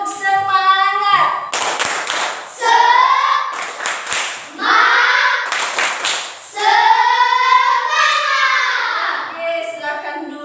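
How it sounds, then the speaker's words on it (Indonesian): Students in an Indonesian classroom perform a rhythmic spirit clap, bursts of patterned hand claps broken by loud chanting and shouted children's voices, close and lively throughout. "Tepuk semangat."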